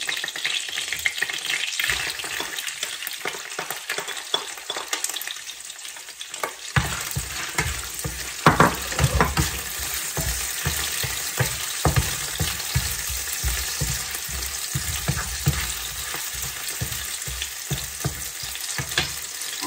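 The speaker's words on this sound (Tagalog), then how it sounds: "tayong mag-saute ng bawang at sibuyas" Garlic sautéing in cooking oil in a pan, already used to cook chicken, starting as a quiet hiss, then a steady, busy crackling sizzle with stirring that runs on alone without talk.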